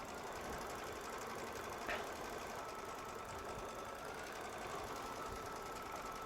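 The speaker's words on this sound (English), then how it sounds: "Press the start button and let it stitch out." A Baby Lock Solaris embroidery machine stitches out a quilting design in the hoop, giving a steady, continuous mechanical hum and rapid stitching patter throughout, evenly level and close, with no talk.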